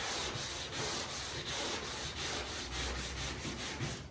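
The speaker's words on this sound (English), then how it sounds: "Once the dark spots are gone, stop sanding." A sanding block rubs back and forth across car paint in steady, even strokes, about a dozen rhythmic passes, close and clear with no talking.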